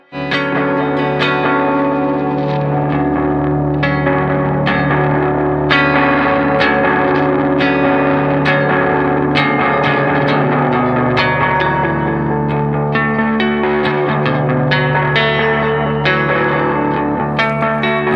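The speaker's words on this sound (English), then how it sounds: "It's a fantastic sounding lo-fi delay that's all about character, warmth, grit, and texture" Lo-fi delay effect adds gritty, warm repeats and grainy wavering modulation to a sustained tonal signal, loud and continuous with echoing plucked attacks smearing into one another.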